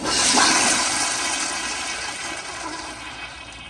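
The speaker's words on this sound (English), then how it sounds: "So here is another flush." A 1989 Crane pressure-assist toilet flushes with a strong, forceful rush of water that starts loud and gradually tapers, heard close up with no talking.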